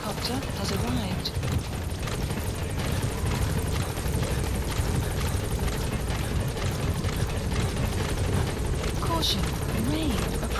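A helicopter's thudding rotor and engine roar in Metal Gear Solid V: The Phantom Pain fill the scene continuously at close range, with a voice occasionally speaking over the din.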